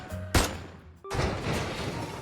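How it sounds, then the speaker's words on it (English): Gunfire in the video game Love and Deepspace: a sharp loud burst of shots, then a second broadband blast that rings on, with a game music bed underneath and no talk. "Suddenly, several gunshots ring out, piercing my eardrums."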